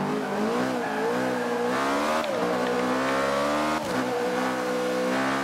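An Ariel Atom V8 in Forza Motorsport 5 held at a loud, continuous high-revving engine note through a corner, the pitch rising and dipping as the throttle is worked, with a faint hint of tyre squeal.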